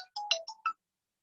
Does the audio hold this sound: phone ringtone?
yes